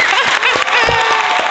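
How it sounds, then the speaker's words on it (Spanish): A studio audience on a Sunday-night Venezuelan TV talk show gives a short burst of applause. It is loud and brief, with a voice and some tonal background sound mixed in. "Un aplauso, Dios mío."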